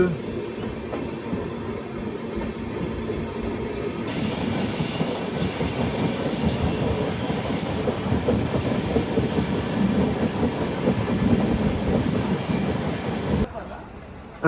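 A freight train rumbles past close by, a continuous heavy roar with rattling wagons and clattering wheels that cuts off near the end.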